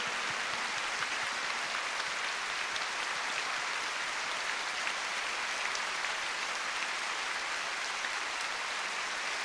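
A church congregation at a world mission convention applauds to welcome missionaries, a dense, even wash of distant clapping that holds steady for the whole stretch.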